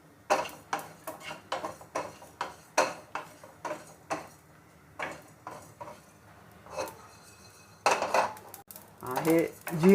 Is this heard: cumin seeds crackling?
yes